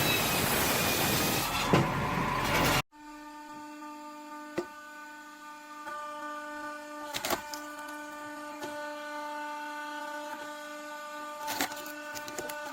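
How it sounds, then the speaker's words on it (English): A homemade log splitter runs under load in a small lumber yard, a steady mechanical hum and drone broken by sharp knocks and cracks as logs split into billets, after an abrupt change from louder broadband noise. "the high-performance homemade log splitter is running at full capacity"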